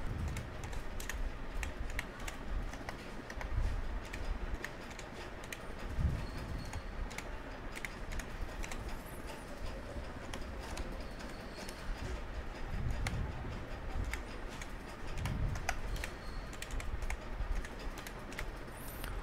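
Someone typing an email address on a computer keyboard, quiet rapid clicking keystrokes in uneven bursts over a faint room background.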